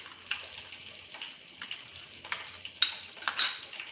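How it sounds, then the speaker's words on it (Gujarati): Green corn dhokla batter being mixed by hand, soft wet scraping and light clinks of a spoon against a bowl in quick irregular strokes, fairly faint and close, without speech. "ફટાફટ આપણે મિક્સ કરી લેશું"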